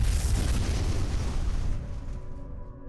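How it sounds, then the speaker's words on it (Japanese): A bomb explodes near the Boston Marathon finish line on a crowded Boylston Street: a loud, broadband blast hits at once and its rumbling roar decays over about two seconds into quieter residual noise. "ゴール地点のすぐ手前で最初の爆発が発生しました。"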